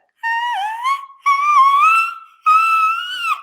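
A singer produces three high-pitched whistle-register tones, pure sustained notes with slight pitch bends, close and loud with short gaps between them.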